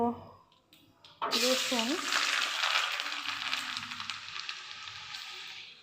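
Garlic and black cumin hit hot oil in a kadai with a sudden loud sizzle that settles into steady frying as they are stirred, while someone talks briefly at the start.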